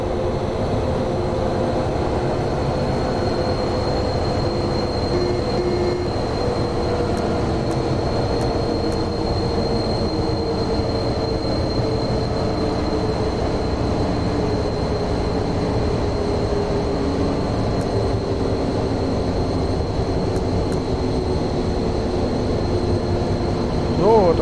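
Simulated BR 216 diesel locomotive running in the Zusi 3 train simulator game, a continuous steady engine drone and rolling rumble, with a faint high whine and occasional brief clicks throughout.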